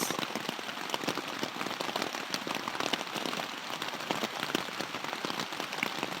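Steady rain falls continuously, a dense hiss of drops pattering on a surface, evenly loud throughout with no voices.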